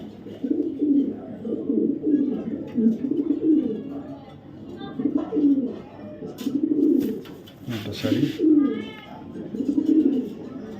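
Racing pigeons coo repeatedly in soft, rolling throaty phrases that pulse in a steady rhythm throughout, close to the microphone, with a few brief chirps and other noises in the middle.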